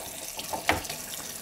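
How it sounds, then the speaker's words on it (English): Water runs from a tap into a sink while paint is rinsed out after airbrush cleaning, a steady close splashing stream with a brief louder splash midway. "you probably want to make sure that you rinse out your sink real well so that you don't stain your sink with paint"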